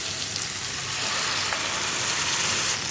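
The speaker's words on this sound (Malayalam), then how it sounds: "അരപ്പ് ചേർത്ത് കൊടുക്കുക" Ground masala paste added to green peas masala in a hot pan gives a loud, dense, steady sizzle like heavy rain, close and even throughout, with no talk.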